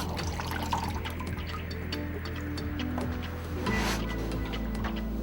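Water drips and trickles from folded, paste-backed Vitrulan Aqua Quick wall covering lengths tilted over a trough, a steady close wet patter with a brief louder splash near the end.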